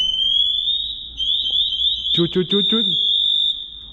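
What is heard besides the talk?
firefighter air pack low-air alarm sounding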